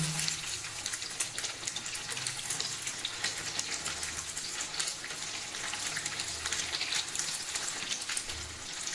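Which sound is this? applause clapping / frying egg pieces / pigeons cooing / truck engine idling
frying egg pieces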